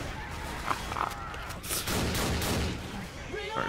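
Gunshots ring out in the zombie shooter Left 4 Dead 2, a few sharp bursts scattered amid game noise with voices talking over them.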